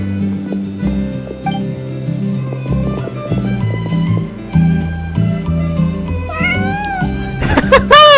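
Cat meowing in the video game Genshin Impact, a few short mews rising near the end over game music with tonal melodic layers throughout.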